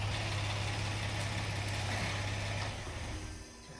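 A Kia Forte with a faulty fuel pressure regulator idles steadily nearby, a constant engine drone that fades and quiets in the last second, with no voices.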